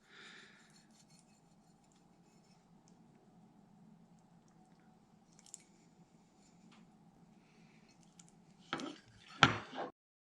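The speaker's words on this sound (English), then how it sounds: "Any harder material that we may still have from the arteries is going to get trimmed out." A knife trims hard arterial bits and fibers from a beef heart on a cutting surface. A low hum runs underneath, then two short, fairly sharp cutting and scraping bursts come near the end.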